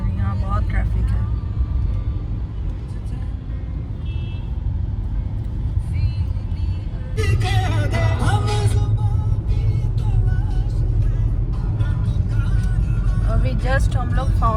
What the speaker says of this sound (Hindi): और यहाँ बहुत ट्रैफिक है.